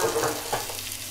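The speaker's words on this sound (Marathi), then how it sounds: "आता मसाले घातल्यावर गॅस केले बारीक आणि घेते वाईस ढवळून" Ground Malvani masala frying in a pan for Malvani fish curry, stirred over a lowered flame: a steady close sizzle with quick scraping strokes of the spoon, no voices.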